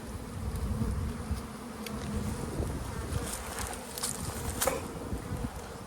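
Honey bees buzz around an opened hive during a beekeeping class, a dense continuous drone close by, with occasional light clicks and handling noises and no talk.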